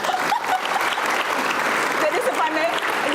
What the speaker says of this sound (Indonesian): kita harus kasih tepuk tangan